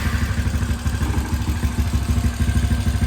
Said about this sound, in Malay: motor pun dah hidup, okay. So jom kita payung bunyi dia.